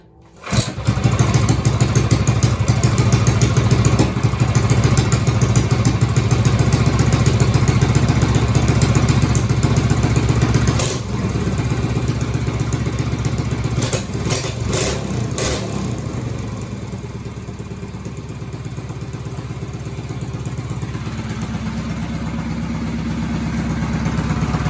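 A small Motovox minibike engine kicks to life and settles into a steady, buzzy idle that carries on, easing slightly lower partway through.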